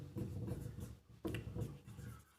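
Numbers being written on a classroom board in a maths lesson, a few scratchy rubbing strokes in two bursts separated by a short pause, close and fairly quiet, with no talking.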